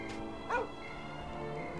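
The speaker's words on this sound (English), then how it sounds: "There's the puppy." A puppy in Dragon Quest 8 lets out a single short, high yip, fairly quiet and close, over a faint steady game music background.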